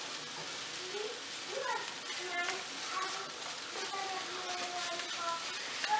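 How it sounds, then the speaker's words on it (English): Onions sizzling gently in oil in a pan, a steady soft crackle and hiss running throughout at close range, with faint stirring and a voice speaking over it. "All right, we got it sizzling a little bit here."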